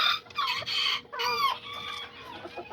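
Broody hens cluck and a rooster crows nearby on a backyard flock of Kikiriki Azteca chickens, several short raspy calls in quick succession, close and clear.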